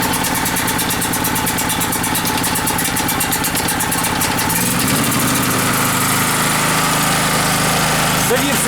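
A GENERGY GORBEA 2.8 kW petrol generator fires up after a pull-start and settles into a loud, steady running drone close by.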